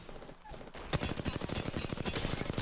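Rapid automatic gunfire in an Apex Legends match, a steady burst of shots starting about a second in after a brief quieter stretch, loud and continuous to the end.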